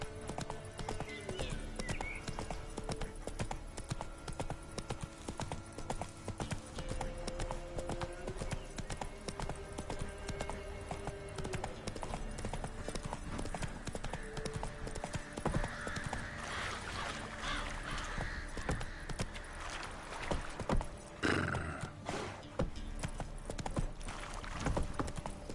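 Roach, the horse in Witcher 3, clip-clops steadily at a gallop amid background game music and ambient sound, with a brief whinny near the end and a voice talking over it at times.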